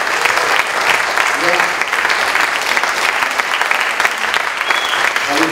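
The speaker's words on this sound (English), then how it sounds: "If we get a round of applause." A theatre audience at a film festival tribute screening gives a round of applause. The dense, sustained clapping fills the whole stretch, loud and steady, with a voice occasionally rising over it.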